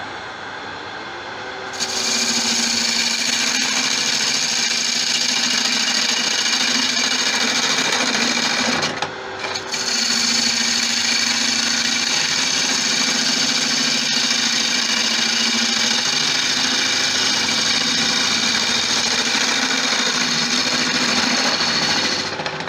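Wood lathe turning a hybrid wood and resin bowl while the piece is shaped, a loud steady whirring hum with scraping tool noise, near, with one brief pause partway through and no talking.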